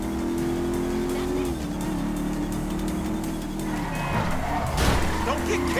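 A motorcycle in the GTA V video game drones with a steady engine hum that dips and rises, then tires and crashing noises burst near the end, with voices talking over it.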